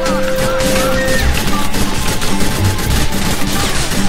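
Gunfire aimed at a player in Grand Theft Auto IV, club guards shooting nonstop, a loud, continuous barrage of rapid shots running through the whole clip.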